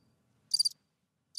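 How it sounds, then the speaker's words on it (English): A single cricket chirps close by in a quick, bright trill of three pulses, faintly repeated at the end against near silence. "Create some crickets."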